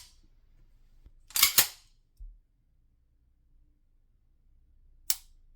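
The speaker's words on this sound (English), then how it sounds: "you can hear the audible click with the reset" Sharp metallic clicks from a CZ 75 pistol's trigger resetting, a tight cluster of two or three near the start and a single crisp click later, close and distinct against a quiet background.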